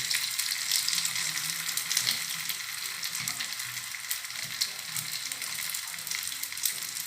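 Brick pastries filled with cheese and meat fry in oil, giving a continuous, fairly quiet bubbling sizzle with scattered crackles and no voices.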